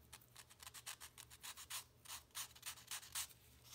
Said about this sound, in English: I'll use a little strip of sandpaper.